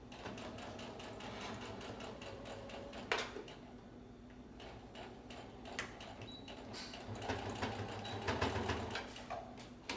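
Sewing machine back stitching along the edge of a fabric face mask, rapid rhythmic ticking in short bursts with brief pauses, close and quiet, no talking.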